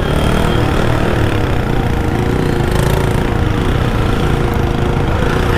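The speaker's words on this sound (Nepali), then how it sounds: "यत्तिको साउन्ड भन्यो भने त बाइक चलाएको रमाइलो हुँदैन नि" A motorbike engine runs steadily with a loud, rough, continuous drone and throb, close to the microphone, with no voices.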